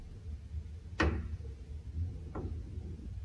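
Two sharp knocks land about a second and a half apart over a low, steady background hum, with no other clear sound between them.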